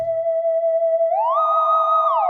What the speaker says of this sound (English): you can hear the portamento if I play one note and then the other one.